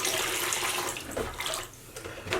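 Rushing water pours steadily from a tap while tea-dyed sock yarn is rinsed, a loud close splashing stream with shifting gurgles and brief dips in flow.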